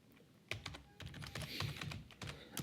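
Keys clack on a computer keyboard in quick irregular bursts of taps, close and fairly quiet, with no voices over them.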